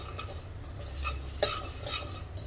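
Broken wheat porridge (dalia) being stirred and roasted in ghee over a low flame, with a spoon scraping and clinking against the pan in a steady rhythm under a soft sizzle, close and fairly quiet.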